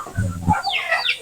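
Chickens and chicks at feeding time on a goat farm, giving a few close clucks and short calls in a brief burst.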